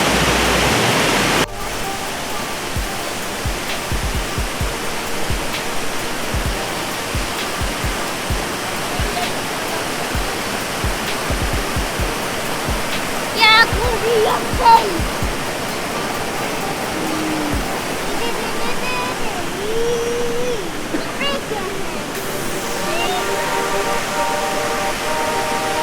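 Waterfall at Plitvice Lakes National Park in Croatia, a steady loud rushing roar of falling water heard from a bridge, with brief faint voices partway through.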